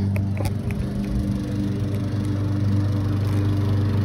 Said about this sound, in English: I said, I got a push mower.